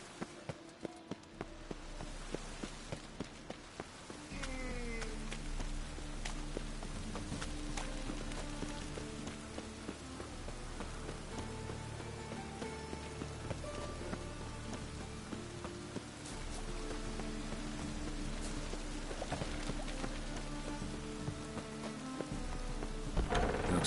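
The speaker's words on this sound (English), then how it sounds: "Looks like rain." Rain and rumbling thunder inside a PS4 video game, a steady wash of rainfall that runs throughout alongside layered game music and ambience.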